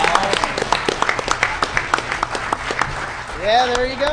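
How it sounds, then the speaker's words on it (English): Audience applause at a DEFCON 17 panel on building hardware devices with FPGAs, a dense run of overlapping claps from a crowd with people talking over it, rising near the end. "round of applause"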